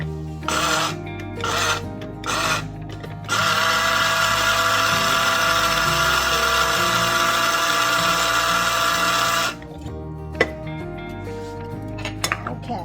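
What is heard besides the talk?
coffee grinder grinding coffee for Nespresso pods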